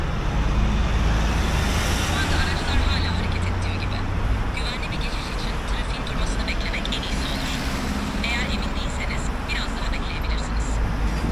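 Continuous roar of road traffic with passing vehicles at a crossing with traffic lights, loud and close, as people talk nearby.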